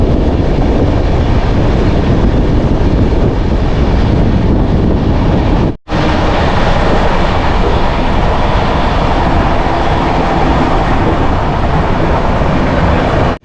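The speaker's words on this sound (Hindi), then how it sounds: "पटना हावड़ा जनशताब्दी एक्सप्रेस।" Patna–Howrah Jan Shatabdi Express rolls along at speed, a loud, steady rumble of wheels on rails and rushing wind heard from on board, with one brief dropout midway.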